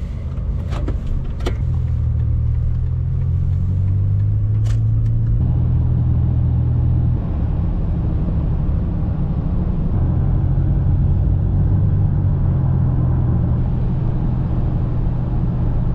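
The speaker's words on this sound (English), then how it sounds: "We're driving the car" A car drives along the road on the way to Carlsbad, New Mexico, heard from inside as a steady, loud low rumble and road hum with faint shifting tones. No one speaks.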